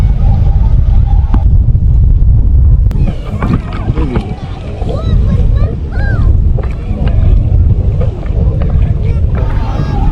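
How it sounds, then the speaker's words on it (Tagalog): Strong wind buffets the microphone at Tondol White Sand Beach in Anda, Pangasinan, a loud, constant roar with gusts, and a voice talks faintly under it. "Hindi maalon, pero mahangin."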